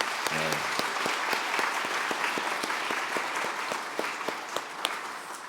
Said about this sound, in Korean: 우리 아이들을 위해서 격려의 박수 한번 하겠습니다